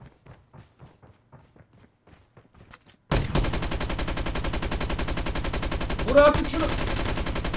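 Rapid automatic gunfire from a recoiling ASM 10 rifle in a mobile shooter game played on a tablet, a loud continuous burst starting abruptly after quiet, with a brief spike near the end; a voice speaks softly before it.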